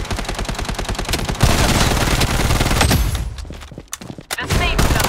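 Sustained automatic gunfire in the Blood Strike battle royale video game, rapid dense bursts of shots that keep going loud and close, with brief gaps near the end.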